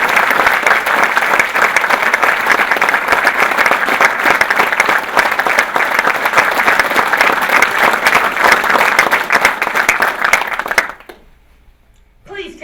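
Sustained, loud applause from a large audience at a military awards ceremony, steady for about eleven seconds before cutting off abruptly into near silence, with a faint stir at the very end.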